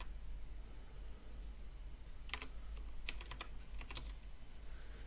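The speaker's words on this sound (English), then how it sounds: "So type in your amount," Fingers typing on a computer keyboard in short bursts of light clicking keystrokes, fairly faint over a low steady background hum, no speech.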